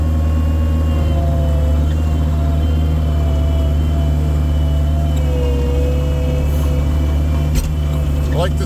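A tractor with a front bucket clears snow. Its engine keeps up a loud, steady rumble and drone from inside the cab, with faint tonal whines and a brief clunk near the end.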